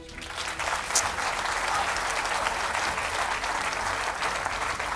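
Audience applauding a runner-up world chocolate champion at a live event, steady dense clapping that starts quickly and holds loud and continuous throughout.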